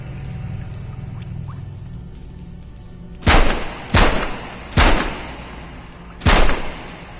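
Four sharp gunshots in the VR game Metro Awakening, loud and close, spaced irregularly after a few quiet seconds of low ambient hum.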